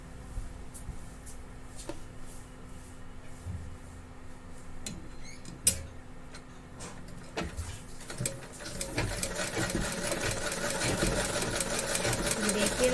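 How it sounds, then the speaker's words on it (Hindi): A sewing machine stitches along a twice-folded fabric edge, starting as soft, sparse ticking and building into a steady, louder running whir over the second half, with no talk. "कपड़ा फोल्ड करते जा रही हूँ और यहाँ पे किनारे में सिलाई लगाते जा रही हूँ।"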